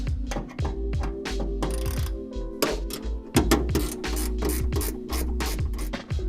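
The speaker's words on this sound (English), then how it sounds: "Last step on the stabilizer bracket is to tighten the 4 bolts down." Quarter-inch bolts on a van roof rack stabilizer bracket are tightened with a 5/32 hex key and a 7/16 backup wrench, heard as close, rapid repeated metallic clicking and ratcheting scrapes with no talking.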